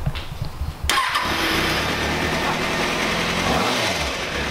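A custom-built Kawasaki ZX6RR motorcycle engine starts up and revs with throttle, rising from a quiet moment into a loud, steady sporty drone with a couple of swells near the end.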